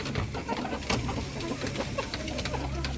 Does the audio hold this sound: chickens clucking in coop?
yes